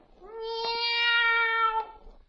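A boy hiding behind a hedge imitates a black cat's meow, a single drawn-out, tonal, whining cry of about a second and a half, close and clear against a quiet background.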